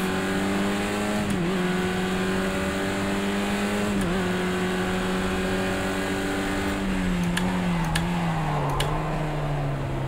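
Race car engine in the video game Project Cars 2, a steady loud drone with the pitch gliding up and down through gear changes as the car warms its tyres, with a few sharp clicks, no talk.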